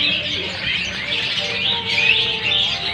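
Many caged birds chirp and tweet together at a bird seller's kiosk in Bandar Lampung, a dense, steady chorus of overlapping calls held close and continuous throughout.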